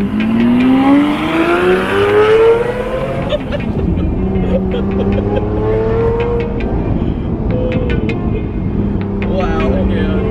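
A custom car's engine revs at the SEMA show, its pitch climbing sharply then settling into a loud, rough drone, with voices talking over the close-up engine noise.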